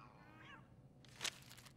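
A cat in the South Park: The Fractured But Whole video game lets out a short, thin meow, followed by a quick, slightly louder cry, both faint against a quiet background.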